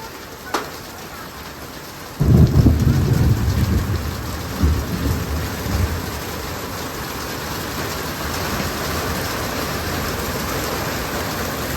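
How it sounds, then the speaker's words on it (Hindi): Steady, heavy rain pours in Uttarakhand with a dense roar that swells sharply after a brief lull, with a single faint tap near the start. "इधर से पता चल रहा है कितनी तेज बारिश हो रही है।"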